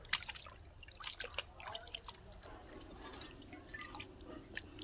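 Water splashes and drips while raw chicken is rinsed before cooking, soft irregular trickling and patters at close range over a low background hiss.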